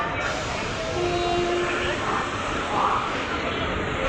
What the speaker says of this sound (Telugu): మన ట్రైన్ కూడా గూడూరు జంక్షన్ ప్లాట్ఫామ్ నెంబర్ 2 నుంచి అయితే స్టార్ట్ అయిపోయింది